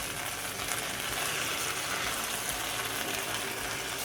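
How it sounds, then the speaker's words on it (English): Linguine with tomatoes and anchovy sizzles and bubbles in a pan while being stirred, a steady close frying hiss with soft scraping, continuous and even throughout, no voices. "Now I just stir, stir, stir."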